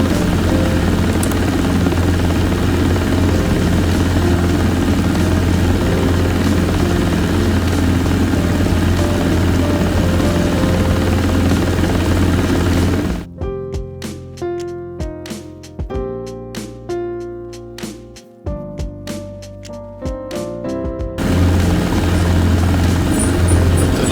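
A Robinson R22 helicopter climbing out in X-Plane 12, a loud, steady rotor and engine drone that holds throughout, briefly interrupted midway by a stretch of other tonal sound before the drone returns.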